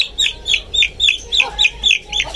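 A young chick peeps and clucks in rapid, repeated high calls while it is treated with powder against mites and lice. The calls are loud and close, with a low rumble of handling beneath them and no clear talk.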